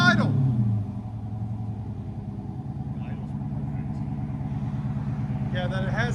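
A 2013 Dodge Charger SRT8 with a 6.4L HEMI V8 and Jones mufflers idles close by with a steady, choppy low rumble. Brief voices are heard at the start and end.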